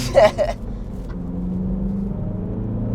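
A 2022 Mini Cooper S engine hums at a steady low idle after a brief burst of voices at the start, the rumble continuing evenly and fairly close.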